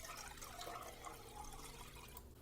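Water poured steadily for a blue cotton candy slushie mix, a broad continuous wash of liquid running throughout at low volume with no talk.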